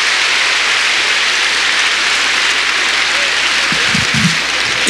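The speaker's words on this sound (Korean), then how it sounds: "박수로 환영해 주세요. 박수로." An audience at a church revival meeting applauding, dense sustained clapping that fills the space, loud and continuous, with a few low voices mixed in.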